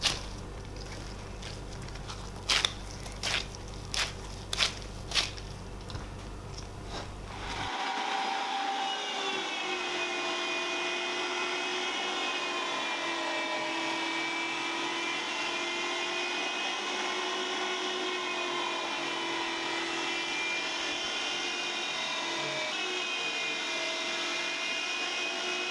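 An electric meat grinder grinds kibbeh meat in a home kitchen, a steady loud motor whir that sets in after a few seconds of handling knocks and then runs on evenly without talk.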